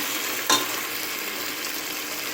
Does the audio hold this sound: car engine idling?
no